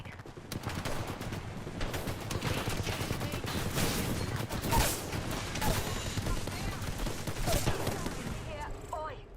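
Rapid video-game gunfire rattles in dense, continuous bursts close up, with automatic volleys and scattered single shots layered throughout, while players talk over the action.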